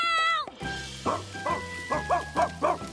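The cartoon dog Martha from Martha Speaks barks in a run of short, evenly spaced yaps over background music, fairly close and clear.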